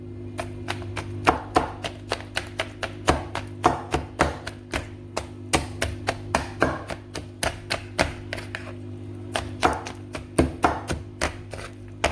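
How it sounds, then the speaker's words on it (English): Rapid, steady knife chops through boiled okra on a cutting board, dozens of sharp close taps in quick rhythm with a brief pause partway through. "Now I'm done chopping the boiled okra."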